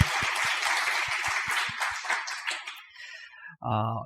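A church congregation at a Sunday worship service claps in fast rhythmic unison, then the applause loosens and fades, ending with a brief voice.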